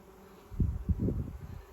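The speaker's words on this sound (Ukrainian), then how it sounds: "Дивимося. Бджола." Honey bees buzz at an open hive, a short faint low drone swelling in a few close pulses after a quiet start.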